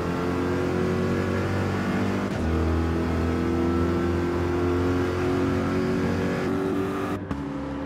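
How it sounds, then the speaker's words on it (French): A Corvette race car in a racing video game at Interlagos revs and accelerates with a loud, sustained engine roar, dipping briefly as it shifts partway and cutting off abruptly near the end. "Avec la Corvette, hein, vu qu'elle a un couple extraordinaire, je peux me permettre de mettre en bas régime tout de suite, elle va partir toute seule"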